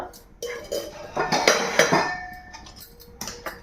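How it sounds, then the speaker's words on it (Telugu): A metal cooking pot is set down on a lit gas stove to make tomato chutney, giving a few clanking, ringing metallic knocks up close, with a voice talking briefly in the background. "స్టవ్ వెలిగించుకొని గిన్నె పెట్టుకుందాం"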